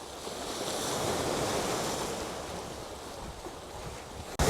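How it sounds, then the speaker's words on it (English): Steady waves wash over a beach in Trani, Italy, a continuous broad rushing surf with wind buffeting the microphone, loud and close with no voices, ending in a brief knock of handling noise. "I'll let you listen to the sea a little bit."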